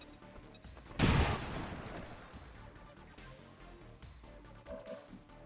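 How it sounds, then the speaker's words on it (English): A grenade blast in the Highlander mod of a turn-based tactical game, heard as one loud, sudden burst of noise near the one-second mark that decays into a rumbling tail, with quieter game effects afterward and no talk. "Throwing grenade."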